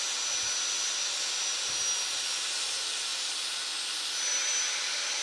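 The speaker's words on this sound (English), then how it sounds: "the best way I've found is to just grab an angle grinder and grind it off" An angle grinder cuts through a steel braided line, giving a steady, close, loud rushing hiss with a faint high whine that holds without a break.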